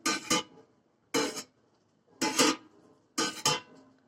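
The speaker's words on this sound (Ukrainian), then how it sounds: "Перемішуємо зверху вниз, щоб фермент добре розподілився по всьому молоці." Goat milk being stirred in a pot for cheese, with four separate bursts of stirring scrapes and sloshes at an even pace, each made of two quick strokes with short gaps between them, close and fairly clear.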